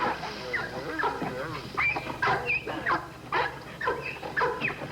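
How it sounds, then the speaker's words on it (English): Several Bull Terriers yap and bark in quick, overlapping bursts, some shrill and whiny, close by and fairly loud. "The noise is a bunch of yapping dogs."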